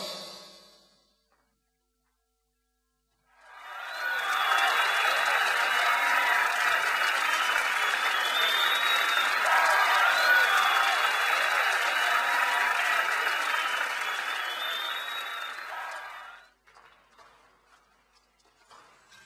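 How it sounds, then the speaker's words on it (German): Applause from a crowd fills a salon, a dense, even roar of clapping that rises after a quiet opening, holds steady for about twelve seconds, then cuts off. "in die vom Beifall dröhnenden Salons"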